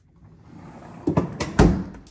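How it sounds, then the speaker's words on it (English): Locked door being tried, a few quick rattling knocks and a heavier clunk as the door is tugged against its latch, close and alone. "Another locked door."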